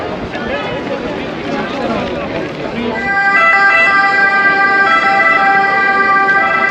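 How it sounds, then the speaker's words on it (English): A loud ambulance siren wails close by on a street in Rome, its tones rising and holding as it passes, over street and traffic noise. "I thought that was the police catching up with me, but it's actually an ambulance"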